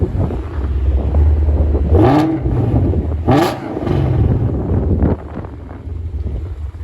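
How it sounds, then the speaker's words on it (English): A 2020 Mustang GT with headers, a resonator delete and its exhaust in race mode gives two sharp, loud revs that rise and fall, then settles into a lower rumble, with wind buffeting the microphone. "it sounds pretty good with those headers and the resonator delete"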